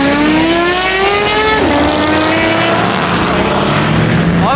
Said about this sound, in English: Damn, those turbos are loud.